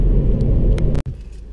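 A car rolls to a stop while parking, its engine giving a loud, close, steady rumble, broken by a brief click and a sudden dip just after one second.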